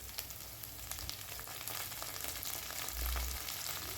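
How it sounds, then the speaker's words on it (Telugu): Onions and curry leaves frying in a pan for gongura chutney make a soft, steady crackling sizzle, fairly quiet and close, with a brief low thump partway through and no voices. "ఆనియన్స్ని ఇలా వేయించుకుంటూ కరివేపాకు కొద్దిగా వేసుకోవాలి."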